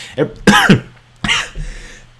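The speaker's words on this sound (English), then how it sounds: "Getting a little cough on here." Several harsh, close coughs come in quick bursts, mixed with throat clearing.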